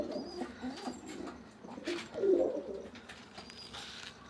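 Pigeons coo softly at a loft cage, low throaty calls rising and falling over faint background hiss.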